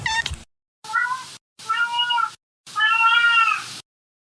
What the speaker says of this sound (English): sometimes my cat Winston joins me.